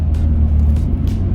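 A Nissan Skyline GT-R R34 V-Spec II is driving, its engine a loud, steady low rumble heard from inside the car, with faint rushing passes over it and no talking.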